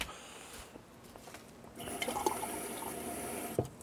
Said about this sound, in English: Bit of cold water in there.